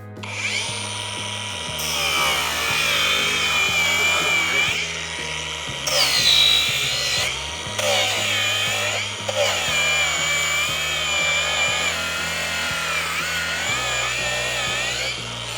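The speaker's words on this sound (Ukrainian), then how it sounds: "Ну а зараз ми ще трохи пошліфуємо." A Procraft AG125A cordless angle grinder runs at low speed, its steady whining motor tone shifting slightly as the load changes, with brief dips and swells over about fifteen seconds; no one speaks.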